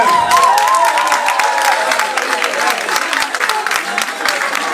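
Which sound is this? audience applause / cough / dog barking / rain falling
audience applause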